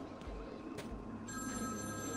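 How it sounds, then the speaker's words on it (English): A telephone rings in the Batman: Arkham City video game, a steady electronic ring with sustained tones over background game sound. "Should we answer this phone for Zaz?"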